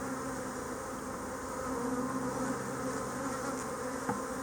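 Honey bees buzz around an opened hive, a steady soft drone of many wings at close range with no talk.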